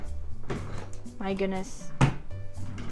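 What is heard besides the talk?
bedroom drawers being opened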